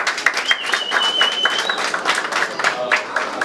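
An audience applauds throughout, a dense, steady patter of clapping hands with a whistle rising briefly above it, loud and close with no pauses.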